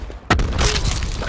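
A frag grenade explodes in Call of Duty Black Ops 4 multiplayer: one sudden loud boom with a deep thud, then a rumbling, debris-filled tail that lingers at close range.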